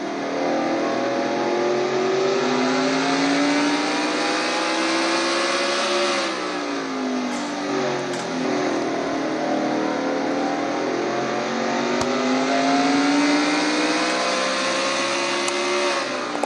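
Race car engine in a Castrol GTX Cup Series race, heard on board as it winds up to about 8,900 RPM, a loud continuous rising whine with gear-change dips and climbs that stays close throughout.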